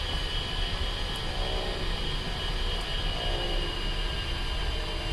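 An A-10 jet taxis toward the runway in a flight simulator game, its engines giving a steady, continuous broadband roar and whine at constant loudness throughout, with no talking.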